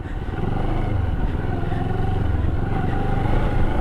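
A Moto Morini adventure motorcycle ridden off road gives a loud, steady, close engine roar with a deep rumbling throb and some rattle throughout, with no talking.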